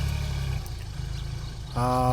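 A mini tractor engine runs steadily at close range with a low, droning rumble, then shifts to a harder, higher-pitched note near the end.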